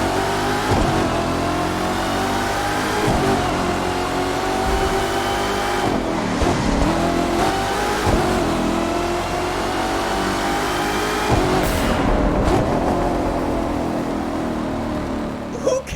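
A Corvette ZR1 engine in The Crew 2 revs and roars in a tunnel, repeatedly climbing in pitch through the gears, with sharp shifts between pulls, close and continuous.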